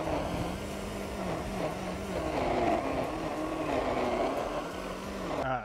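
A Ryobi or Draper lawn scarifier works across wet grass in a steady, moderately loud motor drone, its pitch wavering slightly as it bogs under load.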